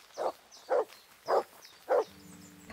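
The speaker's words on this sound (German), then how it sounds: "Er bellt schon wieder ziemlich lange" Four evenly spaced dog barks from the Kingdom Come: Deliverance game, each short and fairly loud, followed by a low droning tone; no voices.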